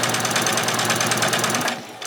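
Sewing machine stitching fabric ruffles at a slow, steady pace, a close, continuous rapid mechanical whirr and clatter for about two seconds before easing off.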